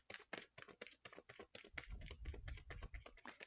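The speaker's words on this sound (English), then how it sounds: "Okay, one more shuffle." Tarot cards are shuffled in a rapid series of crisp riffling slaps and flicks, close and fairly quiet, with no talk.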